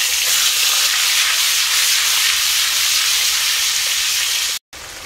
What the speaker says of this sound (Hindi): बॉइल्ड एग को ऐसे ऑयल एंड हल्दी डाल के थोड़ा सा फ्राई कर रही हूँ पहले